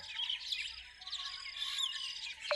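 A busy chorus of birds chirps and twitters continuously, with overlapping high tweets and quick trills close by in a quiet outdoor setting.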